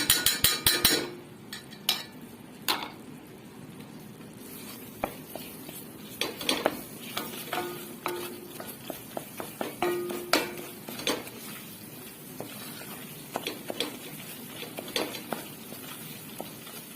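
Flour and tomato paste frying in a pot for arabaşı soup, with metal spoon scrapes and clinks against the pot over a faint sizzle, loudest at the start.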